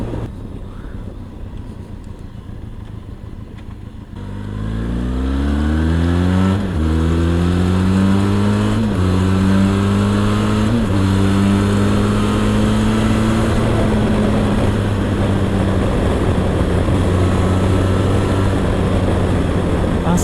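A Benelli TRK502X motorcycle pulls away from low idle and accelerates hard through several gears, its engine note climbing repeatedly with brief dips at each shift, loud and close with heavy wind noise.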